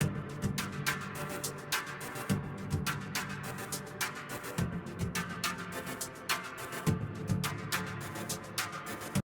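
Layered beat-machine drum tracks with reverb printed into them, fairly quiet, with repeated punchy hits and crisp transients in a steady groove over a washy tail, no talking.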